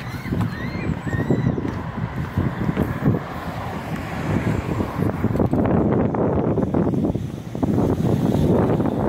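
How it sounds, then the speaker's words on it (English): Strong wind buffets and roars outdoors, gusting unevenly with heavy low rumble throughout, no talking. "Windy!"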